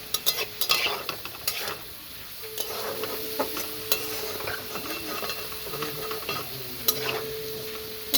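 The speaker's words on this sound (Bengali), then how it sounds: "হলুদটা দিয়ে একটু নাড়াচাড়া করে নিলাম।" Potatoes being stirred with turmeric in a frying pan, a steady sizzle under repeated scraping and clinking of the spoon against the pan, close and continuous, with no talking.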